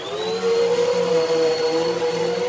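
Steady vacuum cleaner whine with a sustained mid-pitched hum and a thin high tone, running continuously at close range as a sound effect in a story about growing slime, with no voices over it.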